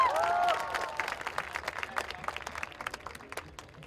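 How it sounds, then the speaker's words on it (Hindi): A crowd at the Kala Ghoda Art Festival in Mumbai applauds new guests, dense clapping after a brief opening tone that thins into scattered claps and fades toward the end. "तालियां दे दीजिए उनके लिए।"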